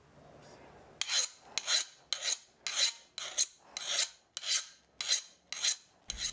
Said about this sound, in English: I'll use a file to ensure that the steel is hardened